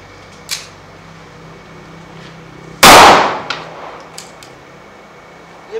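A single loud close gunshot from a Beretta M9A3 9mm pistol fired double action, a sharp crack that decays quickly, with faint clicks and handling sounds before and after.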